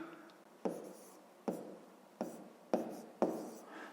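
A pen writes a fraction in a notebook during a fifth-grade maths exercise: five short, distinct scratching strokes at a steady pace, close and quiet.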